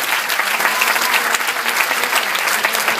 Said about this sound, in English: One more round of applause for the mayor.